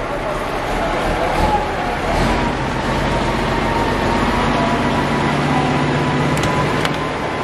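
A heavy diesel engine of a Star 266 truck idles with a steady low rumble and rattle, continuous and fairly loud throughout.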